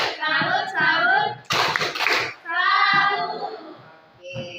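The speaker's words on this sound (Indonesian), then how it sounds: "Kita berikan tepuk salut untuk kalian semua." Children clap together in a classroom cheer, bursts of hand claps alternating with their chanting voices.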